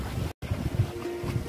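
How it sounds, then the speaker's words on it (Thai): Wind blows at a seaside viewpoint at Wat Na Saton in Hua Sai, Nakhon Si Thammarat, a steady rough rush buffeting the microphone, broken by a brief dropout. "ลมพัดเย็นสบายครับ"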